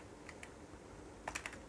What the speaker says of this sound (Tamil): ஹெட்டிங் டைப் பண்ணிக்கிறேன்.